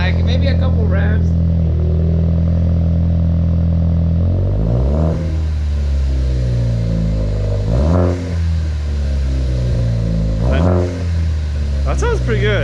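A Ford Focus ST with an AWE catback exhaust revved a few times while parked, deep idle rumble broken by several sharp blips that rise and fall, heard up close with people talking nearby.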